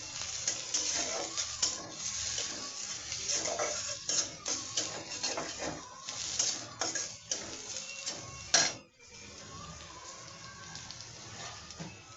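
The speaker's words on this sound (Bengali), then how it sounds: "পেঁয়াজটা দিয়ে দিলাম। পেঁয়াজটা একটু বাদামি কালার হবে" Chopped onion frying in oil in a pan until browned, for a rohu fish curry, giving a steady close sizzle with occasional clinks and stirring scrapes, and no talk.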